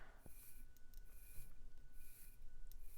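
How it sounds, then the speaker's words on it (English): The crown of a Tudor Black Bay 36 watch is being wound, giving a fine, close, quiet ratcheting rasp in repeated bursts with no talk. "You have to wind it up a little bit so it pops out a little more, and now we can wind the watch."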